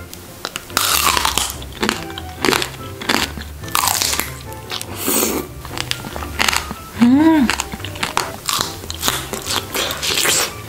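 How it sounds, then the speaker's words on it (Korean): Crunchy strawberry tanghulu candy is bitten and chewed up close, with repeated loud crackling bites and crunches in an uneven rhythm and no speech. "여러분도 바삭한 딸기탕으로 드셔보세요."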